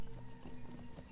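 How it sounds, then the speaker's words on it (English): Horse hooves clip-clopping in the online game Lord of the Rings Online, a steady rhythmic trot kept fairly quiet and close, with faint background ambience and no talk. "Look at my horse, isn't it amazing?"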